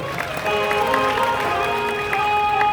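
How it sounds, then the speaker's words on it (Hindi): Audience applause at a Shri Karni Mata katha, a Hindu religious storytelling gathering in Deshnok, a steady wash of clapping beneath sustained tonal music that holds through the whole stretch. "पर जोरदार तालियां बजाओ अभिनंदन करो"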